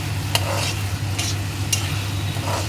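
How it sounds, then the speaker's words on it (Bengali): Small fish sautéing in a pan with green chili, onion-garlic paste, turmeric and salt: a steady close sizzle with repeated scraping stirs of a spatula. "একটু কাঁচামরিচ আর হচ্ছে পেঁয়াজ রসুন বাটা আর একটু হলুদ লবণ দিয়ে আমি একটু মাছটা কষাই নিচ্ছি"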